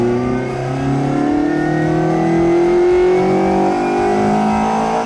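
A classic Mini fitted with a BMW K1200 motorbike engine revs loudly up toward its limit, rising smoothly in pitch across several seconds before easing off, up close with no talking.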